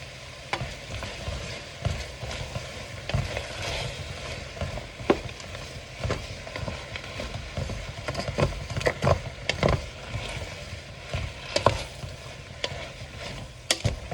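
Onions and sugar are stirred in a frying pan over a steady sizzle, with irregular scraping and clinking strokes of the utensil against the pan throughout.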